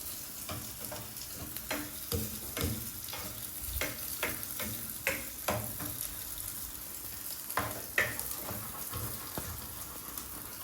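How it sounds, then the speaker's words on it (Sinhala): Sausages frying in a pan for a Sri Lankan devilled sausage dish, giving a steady sizzle with repeated sharp crackles and pops, close and alone with no talking. "ටිකක් අර සොසේජස් එක තැම්බෙනකන් විතරක් බැදගන්න ඇති."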